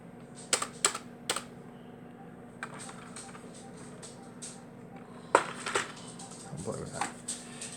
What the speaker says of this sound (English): And now we'll use the plugged-in keyboard.